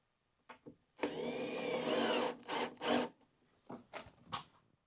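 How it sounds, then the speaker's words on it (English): Power screwdriver driving a screw through a wall-mounted power tool organizer into a wall stud, one sustained whirring burst followed by a few shorter bursts, close and clear in a quiet room. "We have a stud over here. We're going to screw down."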